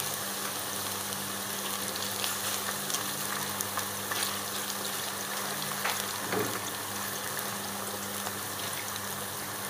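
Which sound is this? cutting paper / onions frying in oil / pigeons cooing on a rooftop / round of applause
onions frying in oil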